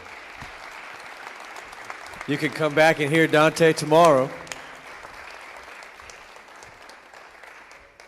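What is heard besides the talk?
audience applause for keynote speaker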